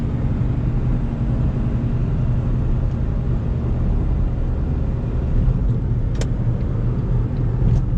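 Smart Fortwo CDI, a light 1,800-pound car with a 3-cylinder diesel engine and small transmission, driving along with a steady low engine drone and road rumble from inside the cabin, no talking.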